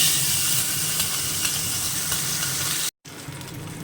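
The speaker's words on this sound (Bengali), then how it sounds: "এবার মাছের মাথাটা ভেজে নেব সর্ষের তেল দিয়েছি কড়াতে" Fish head fries in mustard oil in a wok with a loud, continuous sizzle and crackle up close, broken by one brief dropout near the end, with no talk.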